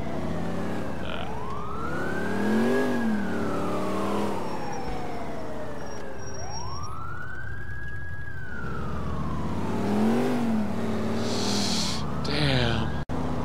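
A speeding car races past in GTA IV amid wailing police sirens, its engine note rising and falling in two sweeping passes, loud and close, with a sharp clunk at the end.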